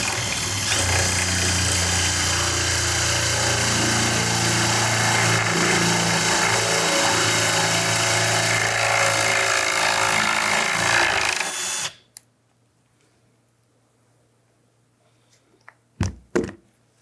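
A power drill fitted with a plug cutter bores a tapered wood plug, giving a loud, steady grinding whir that stops abruptly partway through, followed by quiet and a few sharp knocks.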